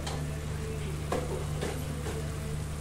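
Chili powder and spices sizzle in a hot pan for spicy fish curry, a steady quiet frying hiss with a few soft stirring ticks and no talk.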